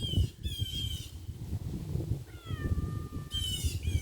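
A cat meows several times in short, high, wavering calls separated by pauses, close and clear over a low rumbling outdoor background.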